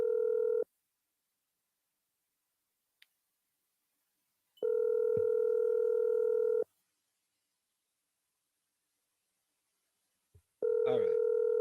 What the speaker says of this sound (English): That number just saying it's calling, but it's not ringing.